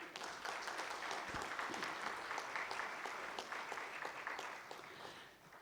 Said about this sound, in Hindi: एक बार विनोद जी के लिए आप ताली बजा दीजिए